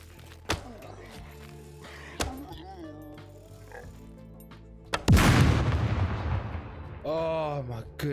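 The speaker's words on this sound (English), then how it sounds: "Why doesn't that explosion lure all of them there?" A loud explosion in the survival game SCUM bursts out and rolls into a noisy decaying rumble, after a couple of sharp earlier bangs, with someone talking around it.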